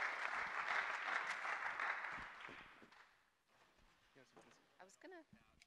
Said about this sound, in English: can we please give our keynote speaker, Kara Alegria-Hudis, a round of applause?